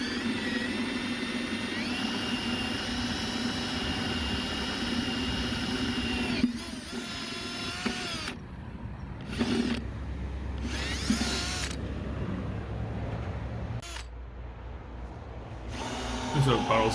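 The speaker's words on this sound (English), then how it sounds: "Pretty sure any drill bit would do, but I decided on a 1-inch Horseman bit." Milwaukee drill with a 1-inch bit boring through an oak barrel, a steady high whine running for several seconds before stopping, followed by short intermittent bursts, with a person talking over parts.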